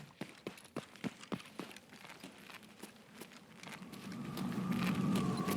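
Footsteps in Escape from Tarkov on the Lighthouse map, a faint, evenly spaced series of soft thuds that fades as a low rumble of ambient noise swells toward the end.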